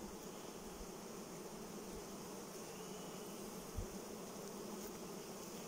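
A honeybee swarm of Ukrainian steppe bees has just left the hive at an apiary in July, giving a steady, even hum of many insects that carries on throughout without pause. A faint thump is heard briefly partway through.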